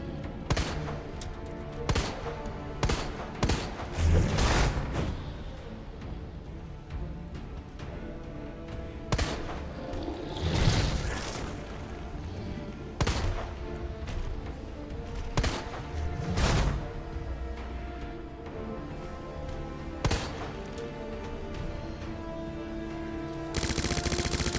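Repeated gunshots from a magazine dump in Resident Evil 2, sharp loud reports spaced irregularly across the stretch with quieter game ambience between them.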